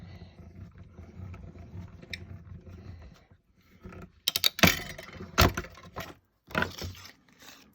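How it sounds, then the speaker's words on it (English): A small mini cut and emboss machine cranked to cut a paper tag, with bursts of grinding, rattling mechanical noise and ratchet-like clicks, loud and close, after a quieter hum. "Let me run this through our Big Shot. Actually, it's not a Big Shot anymore. I'm using the little mini cut and emboss machine."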